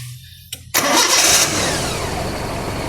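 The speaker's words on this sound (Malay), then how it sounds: "So kita nak dengar sekarang ada lagi tak bunyi gigi flywheel yang macam tadi." Car engine with worn flywheel and starter gear teeth cranks briefly with a click, then catches and settles into a steady idle, close by and loud, no voices.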